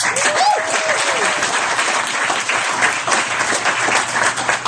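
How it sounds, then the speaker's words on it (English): An audience applauds loudly and continuously, with dense steady clapping filling the room from start to finish, a voice briefly audible early on. "So give America a big round of applause."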